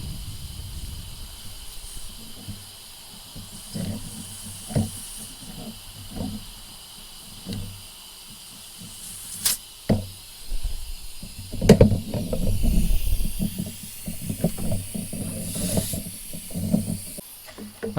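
A Husky 200 PSI, 27-gallon oil-free air compressor (model C271H) regulated to 50 psig feeds a tire inflation tool, giving a steady airy hiss broken by short sharp bursts and clicks, louder surges near the middle and end.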